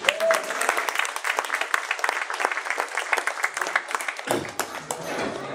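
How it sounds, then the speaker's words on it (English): Graduates and families at an Illinois Computer Science graduation celebration clap in a lively burst of applause, dense and close, then thinning out toward the end. "Please give yourselves a big round of applause."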